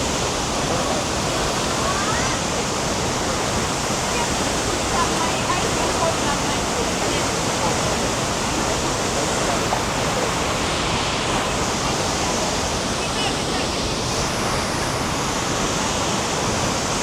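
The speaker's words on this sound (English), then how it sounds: "Guys, check out the waterfall." Tegenungan Waterfall in Ubud, Bali, roars as a loud, steady, broadband rush of falling water that stays unbroken throughout.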